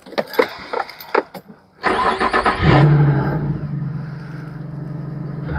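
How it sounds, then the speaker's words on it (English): A 2004 Infiniti G35X with about 230,000 miles cranks and fires up, its engine revving briefly before settling into a steady close idle, after some clicks and handling noises inside the car. "I'll actually start it so you can hear it run"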